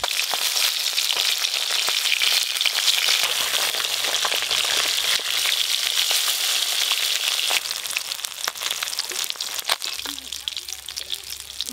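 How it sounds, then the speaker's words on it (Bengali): Fish frying in oil at a rural home by a pond, a steady dense sizzle running throughout and easing slightly near the end, with faint talk underneath. "মাছ ভাজা হয়ে গেল"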